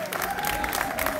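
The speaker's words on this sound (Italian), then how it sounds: "un applauso per loro" Applause from an audience in a town square in Pescasseroli for a music trio, a brief burst of clapping with scattered voices that lasts about a second.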